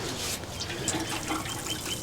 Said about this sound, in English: provide it with a little bit more water right now